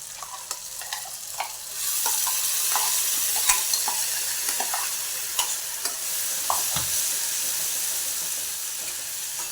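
Mashed spinach sabzi with peanuts goes into a hot pan, setting off a steady sizzle with intermittent scraping stir strokes, fairly close and continuous with no talk.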